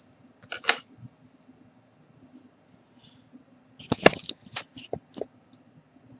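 Scissors snip through coat fabric for a gnome craft in two short clusters of crisp, close cuts separated by quiet handling sounds.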